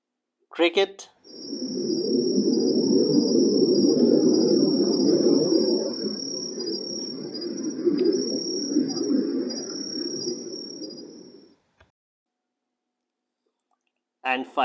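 A steady high insect chirring drones on for about ten seconds over a dense low rumble, then stops abruptly into silence.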